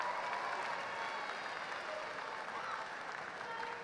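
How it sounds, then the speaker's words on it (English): Faint, steady audience applause at the 2019 Hurricane High School graduation, a soft wash of clapping from a large crowd heard from a distance without a break. "Everybody give him a big round of applause."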